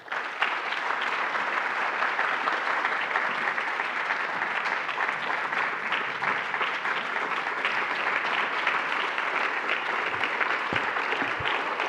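Sustained audience applause welcoming an ambassador at a World Affairs Council of Maine event in Portland, steady dense clapping from a full room that runs without a break.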